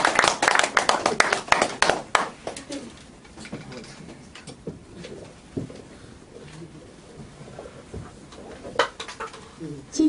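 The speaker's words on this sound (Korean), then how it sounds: "박수로 맞아주시기 바랍니다." An audience at a lecture gathering claps to welcome a speaker, a burst of brisk, overlapping applause at the start that fades into scattered claps and quieter room sounds.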